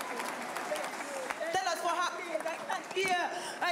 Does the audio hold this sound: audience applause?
yes